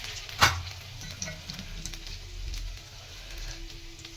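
Garlic, cumin and mustard seeds sizzle in hot oil, a soft continuous hiss with a sharp pop near the start and light stirring scrapes.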